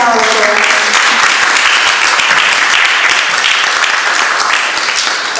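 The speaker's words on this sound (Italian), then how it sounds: "vi chiedo di fare un ulteriore applauso" An audience applauds an Italian presentation in a loud, dense, sustained wave of clapping that holds steady throughout, with a faint voice briefly audible under it at the start.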